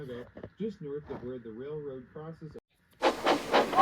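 A person talks for a few seconds, then after a brief pause a train rumbles and hisses loudly nearby.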